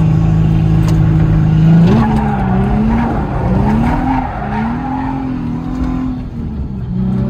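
A Nissan 350Z drives with a loud, continuous engine drone that rises in pitch as it revs and shifts, with tire noise underneath, close and steady throughout with no talking.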